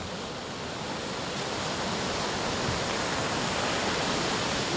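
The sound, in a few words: big waves crashing on the shore during a super typhoon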